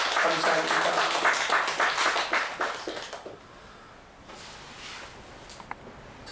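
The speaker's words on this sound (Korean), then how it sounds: "귀한 말씀 주신 우리 목사님 앞에 다시 한번 감사의 박수를 한번 드리겠습니다" A church congregation applauding in thanks to the pastor during a Sunday morning service, loud clapping for about three seconds that fades out, followed by a quiet room with a few faint taps.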